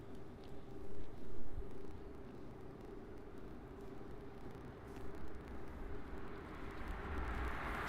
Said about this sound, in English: So the first Air Canada 777 is definitely coming down to the south side.